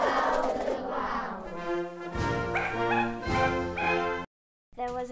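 A human voice imitates a small black French poodle barking, giving a run of loud, close, sung-like barks and yips in an animated cartoon, with a brief silent gap near the end.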